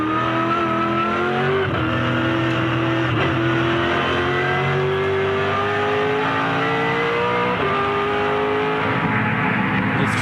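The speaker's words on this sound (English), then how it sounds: "Little throttle resets there at turn 9 for Jamie." A 2007 V8 Supercar racing engine at Phillip Island's turn 9 roars loudly and continuously, its pitch sweeping up through the gears with brief throttle dips and resets.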